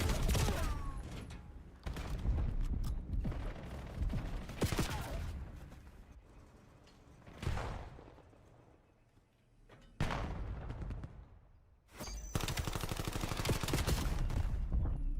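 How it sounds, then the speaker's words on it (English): Gunfire in an online shooter game during an elite playoff match, bursts of rapid shots and heavy thumps coming in waves with brief lulls, moderately loud, with faint voices underneath. "Gwen is shooting right now."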